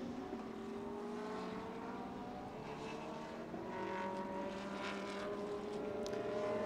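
GT race cars at a GT Asia round 4 circuit in Thailand, engines droning steadily with rising and falling pitch as they pass at a distance, a continuous layered roar with no talk.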